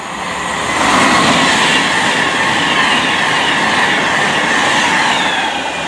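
A Class 390 electric train running from Birmingham New Street to London Euston passes at South Kenton, a loud, close rushing roar with rapid wheel clatter that swells quickly and stays strong before easing slightly.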